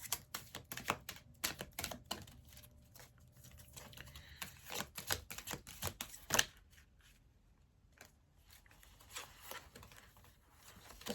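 Rapid papery riffling and clicking of a deck of oracle cards being shuffled in bursts, close by, then a softer stretch of quieter handling.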